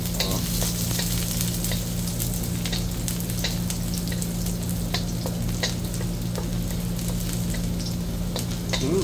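Garlic frying over low heat in a thin pan for pinakbet, a steady close sizzle with occasional sharp crackles and light stirring scrapes throughout.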